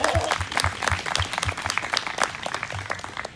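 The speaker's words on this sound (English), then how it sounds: "Let's give a round of applause for" Audience applause at a political gathering, a burst of steady clapping from a crowd, moderately loud, with a voice speaking over it at times.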